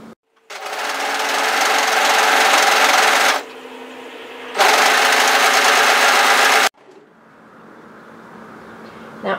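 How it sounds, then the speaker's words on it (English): An overlocker stitches a sweater sleeve seam from the wrist, a loud dense motor whir running in two long bursts with a brief slowdown between, then stopping. "So let's start overlocking at the wrist area."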